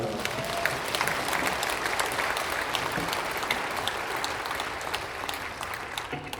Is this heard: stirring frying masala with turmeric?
no